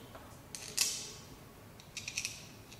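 Small screws on a TBS Discovery brushless gimbal part are driven with a 2.5 mm hex key, giving a few faint close metallic clicks and creaks, with a cluster of quick ratcheting ticks near the end.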